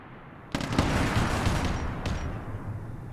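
A frag grenade goes off in a tactical shooter game: a sudden loud blast followed by a long rumbling roar that slowly fades, with a second sharp burst partway through.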